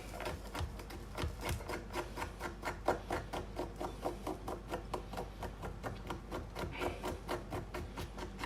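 Fresh turmeric root being scraped by hand in a kitchen, a steady run of quick, close scratching strokes, dozens of short rasps in an even rhythm with no talking.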